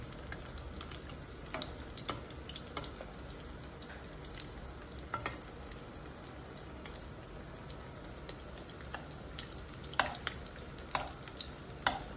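Chicken cutlets frying in hot oil at home, a steady close sizzle with scattered crackles and pops, with no voices over it.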